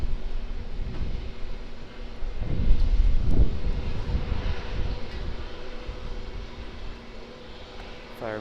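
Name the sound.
United Airlines Boeing 787-9 airliner taking off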